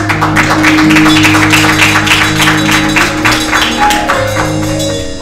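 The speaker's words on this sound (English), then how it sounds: "they start clapping." Congregation clapping at a church service, steady rhythmic handclaps from many people filling the space, with organ or keyboard tones sustained underneath and the clapping thinning toward the end.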